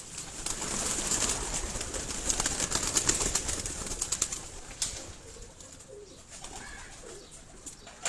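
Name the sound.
pigeons cooing and flapping on a rooftop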